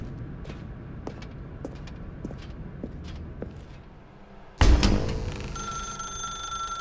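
In the video game The Stanley Parable, sparse footsteps and small clicks lead to a sudden loud telephone bell that rings on steadily until the end.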